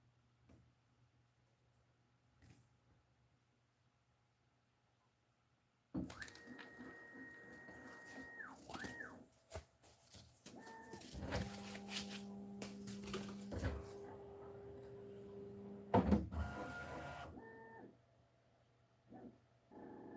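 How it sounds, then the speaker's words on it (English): A Bambu Lab X1 Carbon 3D printer, resting on an unsteady table, starts up after a quiet stretch with loud whirring motors, shifting tones, ticks and buzzing that continue to the end. "Well, already this is much louder than my old printer."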